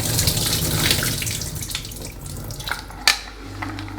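Soaking water draining from a pot of kidney beans into a sink, a steady splashing rush that thins and tapers off, followed by a brief clatter and a low running hum.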